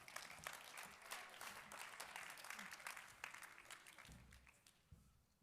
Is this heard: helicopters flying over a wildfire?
no